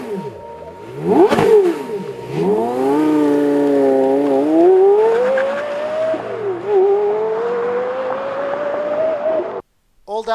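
A Porsche Carrera GT's naturally aspirated 5.7-liter V10 revs hard with a sharp blip, then climbs steadily in pitch through a long, loud, close acceleration before cutting off abruptly.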